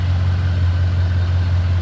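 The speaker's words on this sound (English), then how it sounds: "All right, the truck is running." A Ford F-150 truck, just repaired after a blown head gasket, idles steadily with a deep, loud, even engine drone and no voices.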